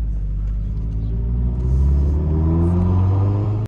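A Volkswagen Golf 7 R gives a loud, steady low engine rumble while driving, with a rising drone that keeps on with no pause and cuts off sharply at the end.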